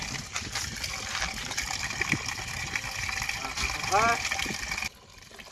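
Diesel gushes out like water in a continuous close pouring stream under a short spoken reply, then cuts off abruptly just before the end.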